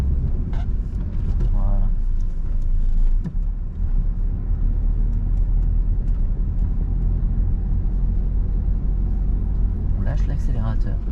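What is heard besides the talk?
car accelerating gently, shifting into second gear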